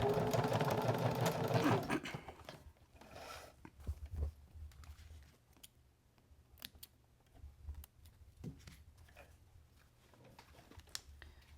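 A sewing machine back stitches a seat belt cover in a short loud burst of rapid stitching at the start, followed by quiet handling clicks and soft fabric rustles.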